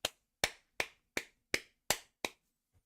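A woman clapping at an AFL match between the Sydney Swans and Adelaide Crows: seven sharp, evenly spaced claps, close and clear, with near silence between them and no talk.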